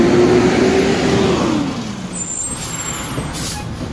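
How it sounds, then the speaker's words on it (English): A loud garbage truck passes close by, its engine droning low and then fading, while a sharp air-brake hiss bursts out over the rumble. No one speaks. "Loud garbage truck."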